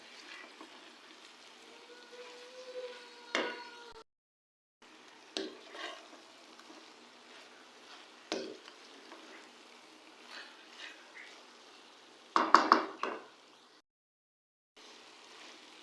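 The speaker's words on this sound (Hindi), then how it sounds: "और अब हम इसे भी मिक्स करेंगे अच्छी तरह से 2 मिनट तक" Chicken being stirred with ketchup in a karahi, a faint scraping and gentle sizzle with a few louder spoon knocks against the pan, spaced irregularly over a quiet background.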